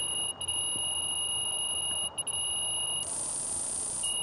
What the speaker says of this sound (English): as the final buzzer sounds